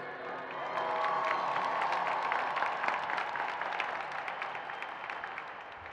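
A commencement audience for the class of 2023 at the MDC North, Hialeah and West Campuses ceremony breaks into sustained applause with cheers and whoops, loud and steady throughout.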